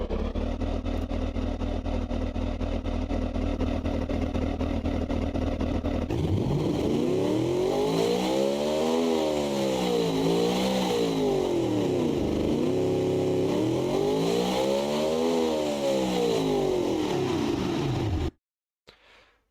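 A car engine runs in the Automation game, first as a steady, rough idle and then as a loud, continuous engine note that rises and falls in two sweeps before cutting off abruptly.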